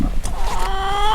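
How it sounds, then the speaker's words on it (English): A chicken clucks loudly up close, a short run of clucks ending in a drawn-out, rising squawk. "How many chickens do you have out here?"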